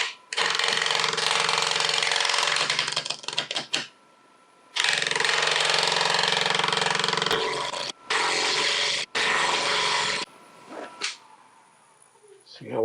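A wood lathe spins a crotch wood bowl at about 1300 RPM, giving a loud steady whir that is interrupted by several abrupt stops and gaps before it fades near the end.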